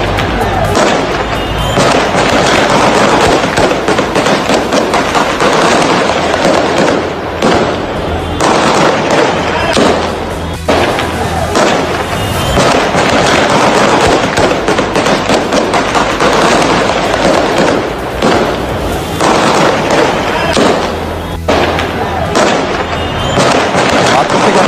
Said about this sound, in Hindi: जो तस्वीर हम दिखा रहे हैं जहां पर अंधाधुंध फायरिंग की जा रही है